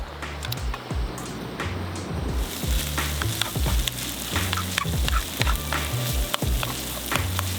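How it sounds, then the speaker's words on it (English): Trout and noodle soup simmers and sizzles in a pot at a creek-side camp cook, a steady bubbling hiss with scattered clinks and stirring taps, close and continuous throughout. "And I'm gonna simmer all this stuff again together."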